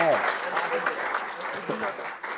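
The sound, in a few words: audience applause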